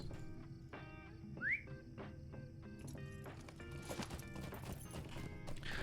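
Horse hooves clip-clop steadily while riding in the video game Lord of the Rings Online, a brief whistle rising over the moderate, even gait with no talk.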